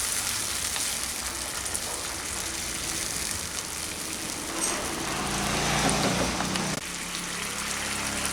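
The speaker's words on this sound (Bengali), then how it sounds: "এখন এটাকে আরও 2 মিনিট ফুটতে দিচ্ছি।" A Bengali-style ridge gourd gravy simmers in a pan, giving a steady, dense bubbling hiss that stays even throughout with no voices.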